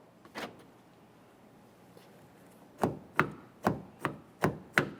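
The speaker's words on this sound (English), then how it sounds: "We'll lock the door." A single faint click, then a quick run of six sharp mechanical clacks in steady rhythm as a Toyota Sienna door lock actuator locks, with no talking.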